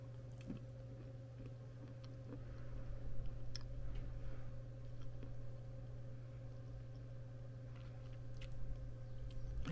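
Close, soft crunching and chewing of crushed edible chalk balls, with repeated bites and grinding over a steady low hum and no talking.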